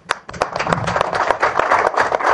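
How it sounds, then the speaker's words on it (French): Applause from an audience at a press briefing, sharp individual claps standing out at first before thickening into steady, fairly close clapping that carries on throughout. "Vous méritez donc, à juste titre, des ovations et applaudissements patriotiques."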